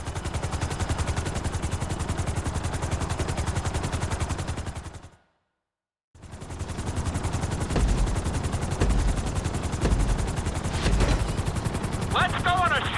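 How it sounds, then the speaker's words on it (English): Helicopter in Grand Theft Auto V, a steady pulsing rotor chop that runs loud and near, cuts out to silence briefly, then resumes with a voice speaking over it. "we're gonna put you in a helicopter for this lesson"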